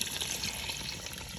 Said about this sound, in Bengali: ওকে এখন হচ্ছে পানিটা দিয়ে দিব